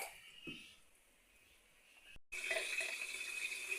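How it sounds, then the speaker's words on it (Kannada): Water is poured into frying biryani masala. A quiet, faint background gives way halfway through to a sudden, louder rushing splash that continues steadily to the end. "ಇವಾಗ ನೀರು ಹಾಕುವ"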